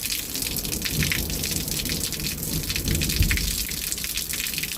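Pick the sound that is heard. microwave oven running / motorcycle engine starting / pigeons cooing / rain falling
rain falling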